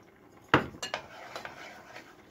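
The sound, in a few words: pot lid being handled on a pan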